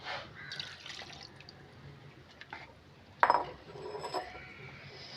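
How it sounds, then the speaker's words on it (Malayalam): Water rinsed from a bowl that held ground curry paste is tipped into a pot of mackerel and raw-mango fish curry, heard as faint splashes and drips with a brief louder pour and light clinks of kitchenware. "ഈ അരപ്പിരുന്ന പാത്രവും കൂടി കഴുകി ഞാൻ ഈ വെള്ളവും കൂടി അതിനകത്തോട്ട് ഒഴിക്കുകയാണ്."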